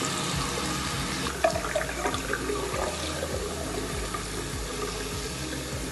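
Water runs from a tap into a container to soak a military beret, a continuous rushing pour with a few gurgling shifts as the level rises, close and steady with no talk.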